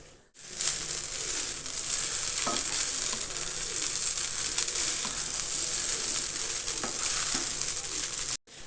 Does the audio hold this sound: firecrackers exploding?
no